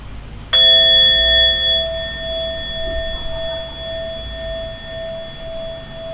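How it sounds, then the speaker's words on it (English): A meditation bell is struck once at the start of a mindfulness practice, giving a clear, loud ring whose pure tone sustains and slowly fades over several seconds. "I'll ring the bell again just to kind of release us from the practice"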